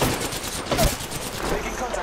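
Close rapid gunfire in Apex Legends, a quick burst of several sharp shots packed into about two seconds, loud and crackling.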